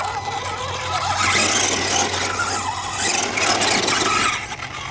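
FMS F100 RC monster truck driving on its first run, a high whining electric motor that rises and falls in loud surges as it speeds up and slows, with no talking.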